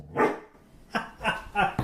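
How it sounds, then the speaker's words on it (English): A dog barks several times in the background at a diner, with sharp separate barks spaced through a short stretch and moderately loud. "The tap dancing that's about to bark soon is a dog we have in the background."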